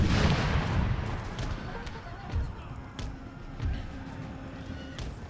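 Musket volleys and artillery fire in the Empire Total War battle game, with close heavy booms at the start and several more scattered thumps and crackles under a steady battlefield din.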